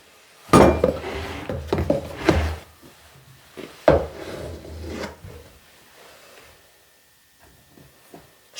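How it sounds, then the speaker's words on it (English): Flour is worked into a dough mixture in a bowl by hand, with irregular scraping, rubbing and clunking strokes that come in bursts, then thin out into a few faint taps near the end. "add 2 cups of all-purpose flour and kind of get that mixed in"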